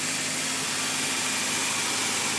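A Toyota T100 2.7 truck engine idles with a steady, even, unbroken hum, a low rumble and a constant broadband whir.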